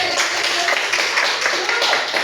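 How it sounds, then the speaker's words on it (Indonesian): A small group in a classroom claps briskly and unevenly, close by, a short burst of applause with some voices mixed in. "tepuk tangan untuk semuanya"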